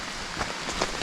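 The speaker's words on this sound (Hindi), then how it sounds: "देखो बारिश, क्या बारिश हो रहा है, छतरी से भी पानी टपक रहा है अभी" Rain falling on an umbrella during a monsoon trek to Asalea Waterfall in North Bengal, a close, loud patter of drops drumming on the canopy, with no talk.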